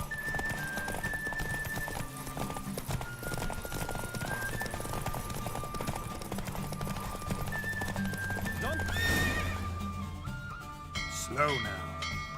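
Horse galloping in a race in The Witcher 3, steady rapid hoofbeats under game music throughout, with a whinny and snorting near the end as the pace eases.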